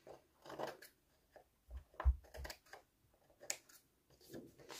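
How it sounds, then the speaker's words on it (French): Scissors snip through paper during scrapbooking, a handful of short, close crisp cuts and rustles spaced irregularly, with quiet pauses between them and no talking. "je reprends mon ciseau, enfin mes ciseaux"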